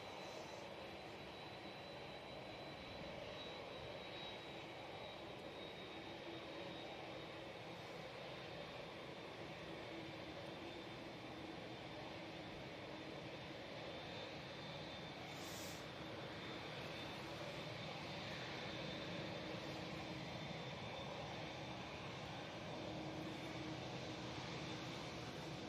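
A TUI jet airliner taking off at Manchester Airport, its engines a distant, steady roar that holds faint but continuous throughout with no speech.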